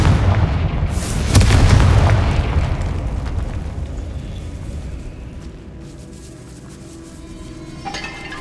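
A Confringo fire spell blasts in a catacomb in Hogwarts Legacy on PS5: a loud booming explosion hits early, then a rumbling roar slowly fades into a quieter, hollow ambience with a faint rattle near the end.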